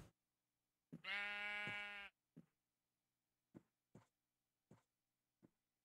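One long, clear sheep bleat in Minecraft is followed by several short, soft thuds spaced over the next few seconds in an otherwise quiet scene.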